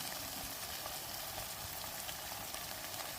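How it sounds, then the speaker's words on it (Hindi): Beef mince (qeema) frying with onions in a pan, a quiet, even, continuous sizzle with faint crackles and no voices. "अब हम इसमें कीमा डाल देंगे और इसको जो है वो अच्छी तरह से फ्राई करेंगे"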